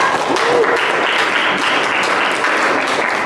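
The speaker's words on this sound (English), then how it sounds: "let's clap" A group claps together during a social media start-up week session, continuous, fairly loud applause from a room of people, steady from start to finish.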